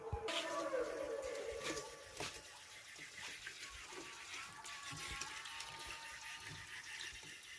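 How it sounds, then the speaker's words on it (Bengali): Neem flowers rinsed in a little water, with splashing and running-water sounds, fairly quiet and steady, louder at first and then settling into gentle sloshing. "আমি একটু অল্প জল দিয়ে ধুয়ে নিলাম।"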